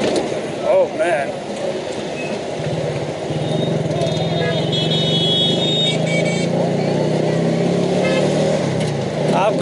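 Chingchi motor-rickshaw ride through traffic in Lahore's Liberty Market area in Gulberg, a steady close engine drone with rising revs and surrounding traffic noise, a horn-like tone midway, and someone talking throughout.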